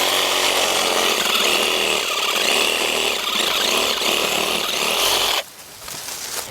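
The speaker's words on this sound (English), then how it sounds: "because I don't think I have the muscle to get this branch out with my loppers, I'm going to get my Sawzall." A reciprocating saw cuts through a thick branch on a multi-stem shrub, giving a loud, steady, rasping buzz for about five seconds before it abruptly stops, leaving quieter outdoor background.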